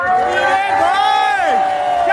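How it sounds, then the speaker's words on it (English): A crowd at an anti-SNP rally in the P&J Live arena in Aberdeen cheers and whoops loudly, with many overlapping voices rising and falling in pitch. The roar is dense and continuous across the whole moment. "Make some noise for Stevie!"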